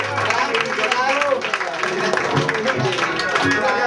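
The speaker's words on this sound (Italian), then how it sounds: "Ecco la Saturnia, bellissimo, applauso." Audience applause for a Miss Italia finalist at an end-of-summer party, crowd clapping and cheering fairly loud and continuous, mixed with a voice talking over the noise.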